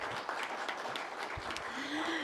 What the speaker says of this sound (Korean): 다시 한번 우리 박영숙 팀장님께 뜨거운 박수 보내주시기 바랍니다.